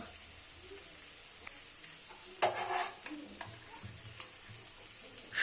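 Cumin and coriander paste stirred into chicken frying with chui jhal, a quiet sizzle under a few sharp spoon taps and scraping stirs against the pan; no talking.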